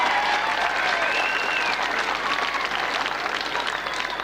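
A crowd at the 1995 Laois Senior Hurling Championship final presentation applauds the championship sponsors, a sustained, even wash of many clapping hands heard at moderate distance for several seconds.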